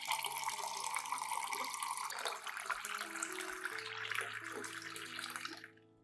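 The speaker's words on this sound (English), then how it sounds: "Add 500 milliliters of room temperature clean water to dilute the solution." Room-temperature clean water poured from a tap-like stream into a potato peel solution, a steady splashing rush with a trickling, dripping texture that holds for about five seconds, then tails off.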